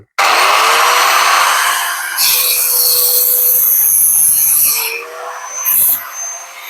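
A loud circular saw whines as its blade bites into material, the pitch dropping under load, then spins down with a short second cut near the end.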